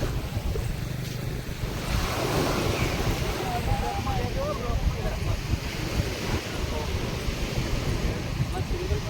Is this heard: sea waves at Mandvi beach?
yes